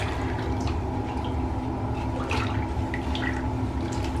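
Water draining from a bathtub where uniforms were soaking to strip them, a steady gurgling rush with a low drain hum, continuous and close, with no talk.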